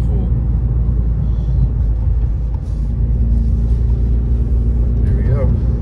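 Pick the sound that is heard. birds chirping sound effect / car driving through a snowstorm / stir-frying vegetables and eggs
car driving through a snowstorm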